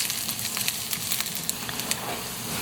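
Ginger sizzling in hot oil in a pan, as the first step of a Filipino sinigang na bangus: a steady, close, moderate frying hiss with small crackles and pops scattered throughout, no voices.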